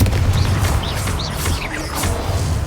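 The Confringo explosion spell is cast in the Hogwarts Legacy video game, producing a dense, continuous roar of blasts and crackling with small whistling zips over heavy low rumble.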